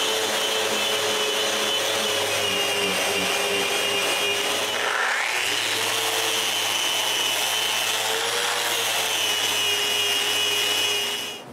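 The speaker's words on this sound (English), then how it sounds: "Now I'm ready for the finish, but before, I give it a final sanding." Power sander working over a wooden piece for a last smoothing pass before spar varnish, a steady close whirring drone running almost the whole time with a brief dip near the middle, no talk.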